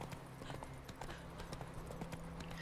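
Horse hooves clip-clop at a steady gallop in The Witcher 3 video game, continuous and fairly close, with a low steady game drone beneath and no talk over it.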